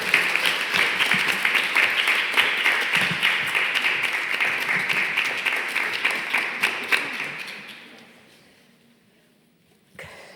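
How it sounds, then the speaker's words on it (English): Sustained applause from an audience at a talk gathering in Innsbruck, dense clapping that holds steady for several seconds before fading out, followed by a brief sound at the end. "A big applause for Rosalyn."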